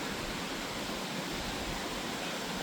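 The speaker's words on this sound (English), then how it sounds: "We'll have a quick look at this waterfall here" A waterfall in a forest near Skipton Castle gives a steady, dense rush of falling water, close and continuous with no voices.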